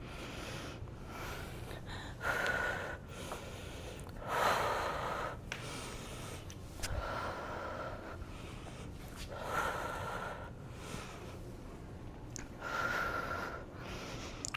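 Loud, rhythmic in-and-out breaths repeat about every two to three seconds, close by, during a no-equipment full-body bodyweight workout.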